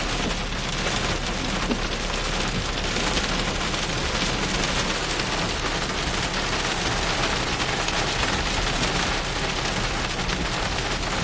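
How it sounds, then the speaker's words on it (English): Hail from a thunderstorm near Stockton, California, drums steadily and loudly on a car, a dense, continuous clatter of countless close impacts with no pauses for the full length. "It's hailing."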